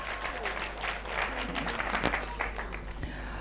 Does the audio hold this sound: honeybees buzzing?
no